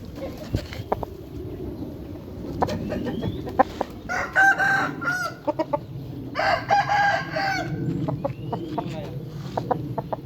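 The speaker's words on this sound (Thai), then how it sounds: "ไก่ตอนนี้คึกมากเลยนะครับ" A young rooster crows and clucks repeatedly at close range, with other fowl calls and faint voices in the background.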